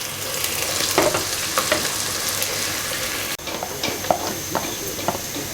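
Chopped onions, about two cups, frying in roughly half a cup of oil for a Bangladeshi chicken haleem, a steady close sizzle with occasional stirring scrapes throughout.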